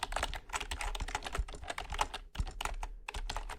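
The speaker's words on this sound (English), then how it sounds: "It's really hard not to hit the space bar while I'm typing on this." Rapid, continuous typing on a computer keyboard whose space bar is slightly off, the keystrokes clicking close and crisp in a quiet ASMR setting, with a few heavier thumps among the taps.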